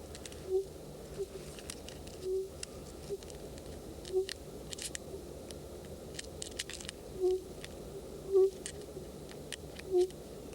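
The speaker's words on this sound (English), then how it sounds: "Tape recordings of a sitting hen bird are played to encourage it to emerge." Soft low clucking calls of a sitting hen bird, played from a tape recording, repeat at irregular intervals, faint and muffled, over a quiet background hum with scattered light ticks.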